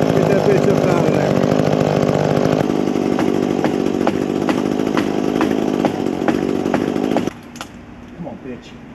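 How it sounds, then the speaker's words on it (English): A chainsaw runs loud and steady while cutting into a tree limb, its engine drone holding for about seven seconds before cutting off abruptly, leaving faint scraps of sound. "I got the chainsaw stuck in the limb"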